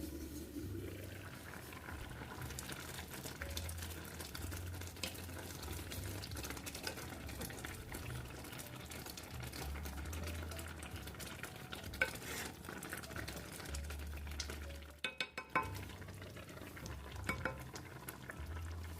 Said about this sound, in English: You can hear it bubbling away.